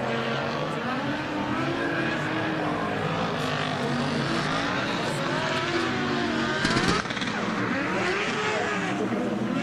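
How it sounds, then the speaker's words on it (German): A race car engine roars at the ADAC 24h Nürburgring race, a continuous loud drone whose pitch rises and falls, with a brief sharper burst near the end and talk mixed underneath. "wenn der Wagen in den Begrenzer läuft. Ja, was man extrem gut hören kann."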